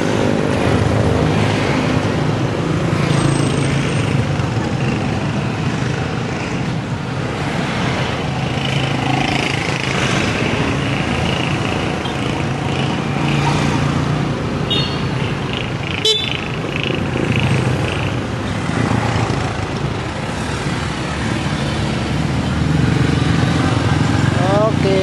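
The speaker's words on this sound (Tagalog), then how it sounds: "Parang daming motor." Constant engine rumble from many motorcycles idling and revving nearby at a Yamaha service center, with occasional horn toots and a loud, busy mechanical background throughout.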